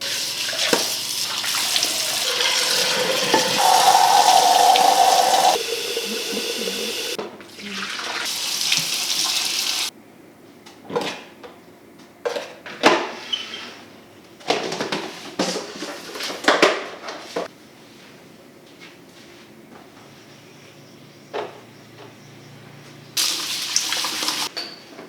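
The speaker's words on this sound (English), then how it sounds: "Let me wash my dishes here in the kitchen." Kitchen tap water runs into a sink during dishwashing, a loud steady gush for the first several seconds, then scattered clinks, splashes and short bursts of water as dishes are handled, with a brief run again near the end.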